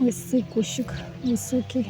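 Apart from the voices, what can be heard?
No everyday noises stand out.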